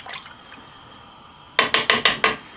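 Water glugs from a jug into a pot for chicken haleem in five quick, evenly spaced pulses, loud and close, after a quieter moment of faint clatter.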